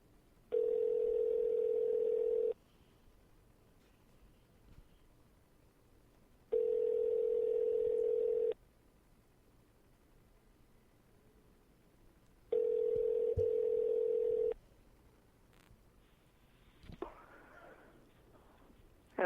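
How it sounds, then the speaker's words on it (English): Three long, steady telephone ringing tones, each about two seconds, separated by pauses of silence, with faint shuffling noise toward the end. "It's ringing."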